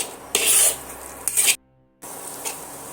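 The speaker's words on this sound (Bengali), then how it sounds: "যতক্ষণ না একটা তেল ছাড়ছে ততক্ষণ ধরে আমি কষাতে থাকব" Spices and ginger-garlic paste are stirred in a hot pan for Kashmiri aloo dum, giving short bursts of scraping and sizzling broken by a brief silent gap, close and moderately loud.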